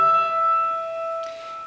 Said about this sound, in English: A sixth is going to sound like this.